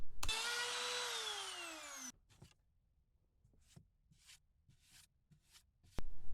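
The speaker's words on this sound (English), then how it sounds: "Then basically it's just Forstner bit and router time." A loud router with a Forstner bit cutting a wooden guitar body whines steadily for about two seconds, pitch slowly dropping as it cuts, then stops; a few faint taps and scrapes follow before it starts again.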